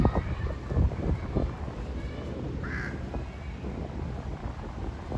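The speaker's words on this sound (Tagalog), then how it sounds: "May uwak din pala dito sa Bangkok" A large crow caws once, fairly faint, at a riverside spot in Bangkok. Steady wind rumble against the microphone surrounds it.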